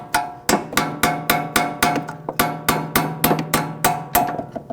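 Rapid metallic hammer taps on a 10mm socket set in an Audi S4 tie rod end, about a dozen ringing strikes at a steady quick rhythm, close and clear with no voices.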